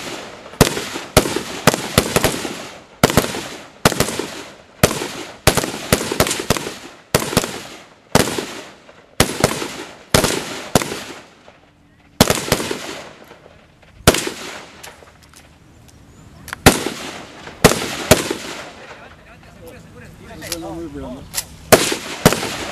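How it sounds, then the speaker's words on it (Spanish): Guns firing at an outdoor shooting range in Colombia: sharp, loud shots in rapid bursts and single cracks, some in quick succession, with pauses between volleys and voices faintly in the background. "Y ahora en tiempo libre pueden disparar."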